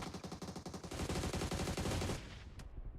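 Machine gun fire in a live PUBG Mobile competitive match: loud, close, rapid automatic bursts that merge into one sustained volley, then break off abruptly.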